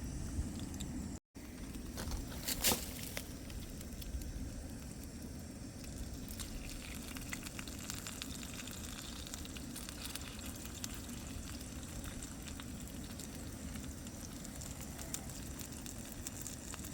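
Steady crackling sizzle of dumplings frying in a hot pan over an outdoor fire in the woods, a continuous dense hiss with faint pops, fairly quiet and unbroken throughout.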